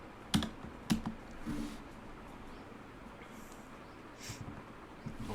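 Computer keyboard typing in a quiet room while a Node.js package install command is entered, a few sharp keystroke clicks near the start, then softer scattered taps.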